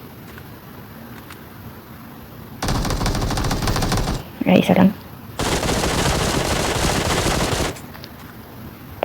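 Two long bursts of rapid automatic gunfire in PUBG Mobile, loud and sustained, separated by a brief gap where a voice speaks over softer background noise.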